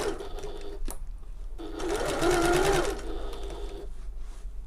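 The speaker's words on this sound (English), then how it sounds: "Just manoeuvre your bag around so you can sew around the entire top." A sewing machine runs in a steady burst, stitching around the entire top of a shoulder bag as it is turned under the presser foot; the motor is close and loud, rising slightly in the middle before easing off.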